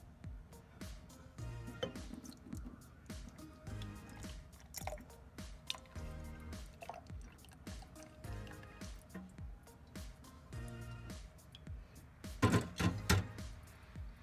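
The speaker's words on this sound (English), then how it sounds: "So now I'm gonna take my cooled off solution and pour it into the jar" Cooled sugar solution for rock candy is poured into a glass jar, giving quiet drips, trickles and soft splashes with light clinks of glass, louder near the end.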